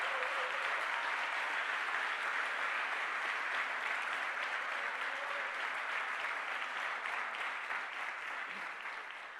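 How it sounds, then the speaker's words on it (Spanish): Steady, dense applause from a church congregation fills the whole stretch, a continuous wash of many hands clapping at even loudness that eases slightly near the end, with no talk over it. "Denle un aplauso al Señor en esta noche."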